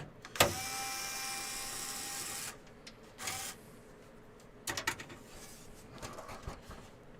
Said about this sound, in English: We'll go ahead and start removing the screws for this.